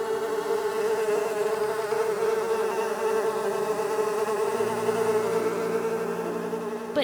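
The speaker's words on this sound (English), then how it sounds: "The flies buzzed into the houses and filled Pharaoh's palace." Swarming flies buzz continuously, a dense steady drone of many insects close by with a wavering pitch, heard alone without voices.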